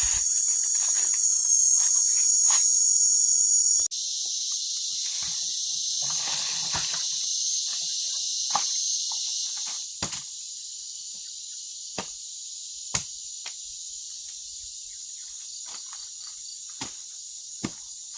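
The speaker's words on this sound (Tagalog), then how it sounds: "Kumaingay sa mga insekto." Insects chirp in a steady high-pitched drone around a quiet old provincial house, with sharp faint clicks and ticks scattered through the calm.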